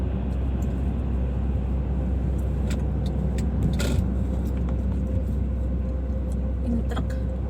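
A truck drives by on a road beside a house, a steady broadband engine and tyre rumble that stays loud and close throughout, with short sharper noises scattered over it and some faint talk.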